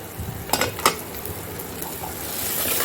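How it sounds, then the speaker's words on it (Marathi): Coconut masala paste sautéed in a pan, a soft steady sizzle with a couple of sharp spoon scrapes and clinks against the pan early on, close and continuous. "आता आपलं बघा वाटण पण चांगलं परतून झालेलं आहे"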